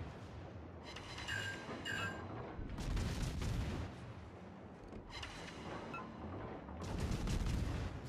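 Naval gun salvos in the World of Warships video game roll out as repeated heavy booming bursts, dense and loud, with rumbling decay between volleys.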